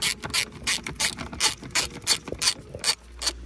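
A hand ratchet loosens T30 Torx bolts holding the airbag on a Suzuki SX, making fast, close, loud bursts of clicking in an uneven rhythm, with no talk.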